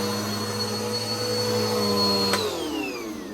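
A Bissell vacuum cleaner motor runs steadily with a loud, even whine and hum, then its pitch begins dropping as it powers down near the end.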